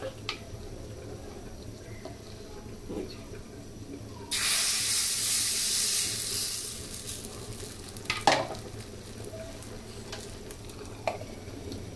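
Chitoi pitha batter hits a hot pan with a sudden loud sizzling hiss that slowly dies down, followed by a few clanks of a lid and utensils, close and with no talking.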